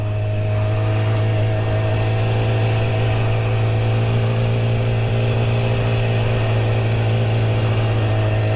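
A Honda Grom motorcycle engine runs at a steady, close, loud idle, an even drone throughout with no speech.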